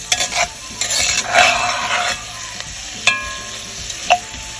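Kielbasa sizzles and fries in a pan while a utensil stirs it, making a steady crackle broken by sharp scrapes and clinks against the pan, with no voices.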